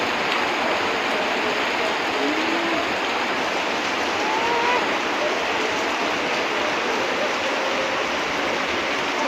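Heavy rain pours steadily in a dense, continuous wash of noise, loud and unbroken throughout without a clear rhythm or gap.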